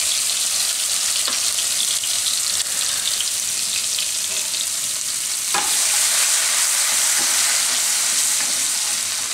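Cumin, garlic, chilies and curry leaves crackle in hot oil for a vegetable dish, a loud continuous hiss and sizzle with occasional pops and stirring clinks close by, and no talking.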